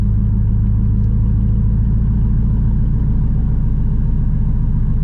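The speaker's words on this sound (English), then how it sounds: "You can kind of hear the valves open." A 2016 Shelby GT350 with its exhaust valves open in track mode, giving a steady, loud, deep rumble that holds constant without revving changes.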